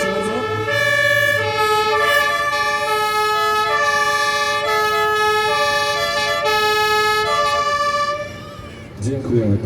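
Volunteer fire engines at a firefighting demonstration sound their sirens and horns together in a loud, sustained tonal blare that holds for several seconds before cutting off, with a voice briefly heard at the end.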